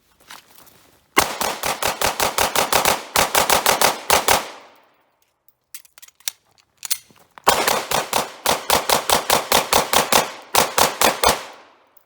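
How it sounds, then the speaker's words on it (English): A new Glock 45 pistol fires at an outdoor range in two fast strings of sharp, loud shots with a short pause between them, each burst a rapid evenly spaced run of cracks. "Just doing a mag dump."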